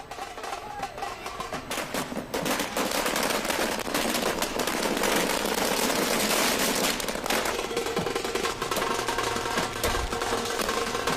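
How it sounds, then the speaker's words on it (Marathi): Firecrackers bursting at a street celebration in Wardha amid dhol-tasha drumming, a dense, continuous crackle of rapid pops and bangs that runs the whole time, loud and close with crowd noise mixed in. "तिकडे वर्ध्यात सुद्धा ढोल ताशांच्या गजरात फटाके फोडून आनंदोत्सव साजरा करण्यात आला"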